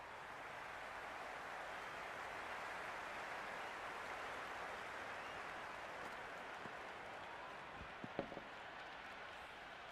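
A cricket crowd at a World Cup match between India and South Africa cheers and applauds, a broad continuous roar of clapping and voices sustained throughout, with a few sharp claps near the end.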